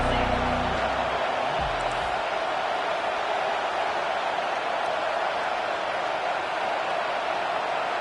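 A college football stadium crowd roars as the home defense pins the offense deep in its own end, a dense, unbroken wall of noise that holds at the same level throughout.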